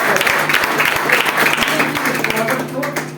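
Students clap together at a G-20 University Connect programme held by the Magadh University political science department. The applause is dense and steady for the whole stretch, and a voice seems to carry faintly underneath.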